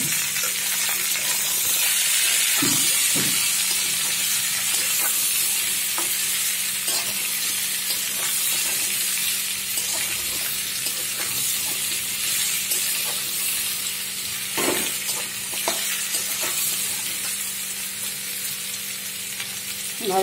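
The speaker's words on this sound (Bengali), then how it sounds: "আর এই পাশটা দেখুন জল গরম হয়ে ভাজা ভাজা হচ্ছে" Watermelon rind frying with sugar in a pan, a loud continuous close sizzle with intermittent stirring scrapes and knocks throughout, no voices.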